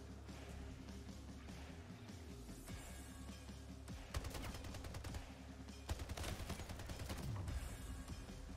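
Bursts of video game gunfire, dense fusillade-like volleys with sharp louder shots around four and six seconds over a steady game soundscape, no talking.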